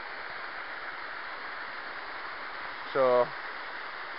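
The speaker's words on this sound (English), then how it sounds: "I'll end the video here at this cool little waterfall." A small waterfall inside an old stone tower in Scotland gives a steady, even rush of falling water, with one short spoken word over it.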